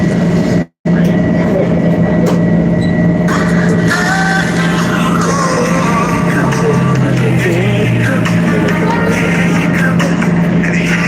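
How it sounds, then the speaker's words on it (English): Steady rumble inside a moving commuter train bound for Ronkonkoma, with a constant low hum, clattering and a brief dropout, with faint voices in the background. "This is the train to Ronkonkoma."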